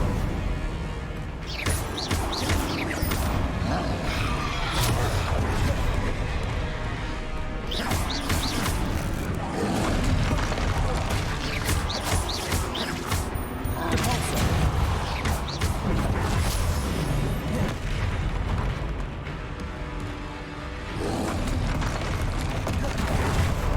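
Repeated Confringo spell blasts from the video game Hogwarts Legacy boom and crash in loud, dense bursts throughout, layered with battle noise and a player's voice.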